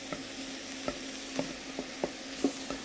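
Lamb browning in a hot pan for a slow-cooked seven-hour leg of lamb, a steady low sizzle broken by periodic soft scrapes and stirs, close and fairly quiet with no voices.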